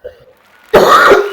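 One sharp, loud cough bursts out close to the microphone after a faint breath and brief quiet, then rings on for about half a second.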